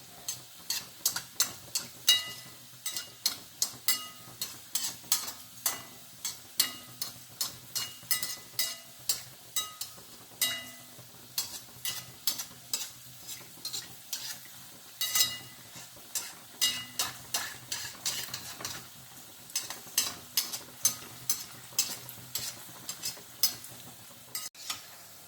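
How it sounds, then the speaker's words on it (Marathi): Sweet potato gulab jamun balls fry in hot oil as it is gently spooned over them, giving repeated soft scraping and ticking strokes in a steady rhythm over a faint sizzle, close up with no voices. "गुलाबजाम टाकल्याबरोबर लागलीच हलवायचे नाही, त्याच्यावर हलका हलका तेल सोडायचं आणि त्यांना स्वतःहून मोकळं होऊ द्यायचं तेलापासून"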